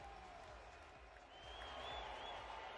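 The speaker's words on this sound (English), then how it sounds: "The crowd is fired up right now." Hockey arena crowd at a Carolina Hurricanes vs Florida Panthers playoff game, a distant, faint wash of cheering and applause that swells slightly toward the end.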